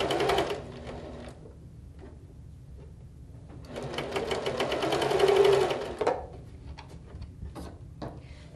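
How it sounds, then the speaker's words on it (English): A sewing machine stitches quilt seams in close, loud bursts, a fast steady rattle running for a few seconds, pausing, then running longer before stopping. "Take it to your machine, line up the seams, and then just sew away."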